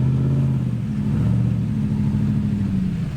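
Pickup truck engine droning and revving steadily while stuck in soft ground off-road, a continuous low rumble at moderate distance with slight pitch wavering.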